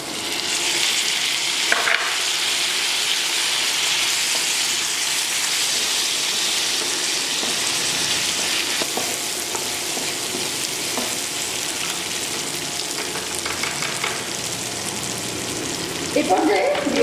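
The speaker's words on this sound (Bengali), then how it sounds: "মশলাটা কষানো হয়ে গেছে, উপরে তেল ভাসতে শুরু করেছে। এখন আমি দিয়ে দিচ্ছি শুটকি।" Cleaned, drained dried loitta fish fries in spiced oil with a loud, continuous sizzle and crackle, and stirring scrapes come through now and then.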